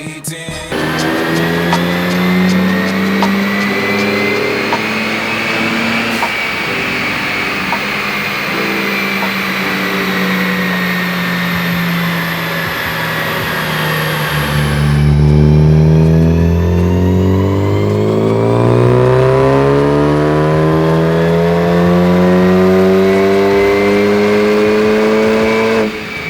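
Ford Focus ST engine revving hard on dyno rollers, climbing steadily in long pulls with a rising whine, then dropping back and sweeping up again, loud and close.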